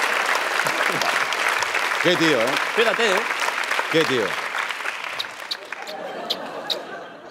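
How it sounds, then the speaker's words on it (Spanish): Studio audience on a Spanish late-night comedy show applauds for Roger Federer, a steady wash of clapping and crowd noise while someone talks over it and a few voices chatter and chuckle, easing off toward the end. "Pido un aplauso para Roger Federer."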